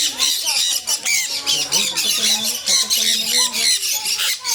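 Chickens squawking and clucking in a small-bird enclosure at a pet sanctuary, a busy overlapping chorus of calls with children and adults talking nearby.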